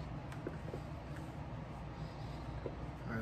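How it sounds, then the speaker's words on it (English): Central air conditioning hums steadily in a room during shoe restoration, a faint, continuous low fan drone with a few soft clicks and knocks over it. "that's the central air conditioning basically running"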